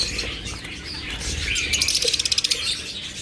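Caged opaline budgerigars chirping at a bird farm, scattered light tweets building into a quick rhythmic burst of chattering notes near the middle, close and fairly loud over soft background rustle.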